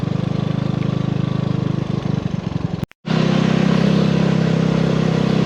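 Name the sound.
Vespa scooter engine while riding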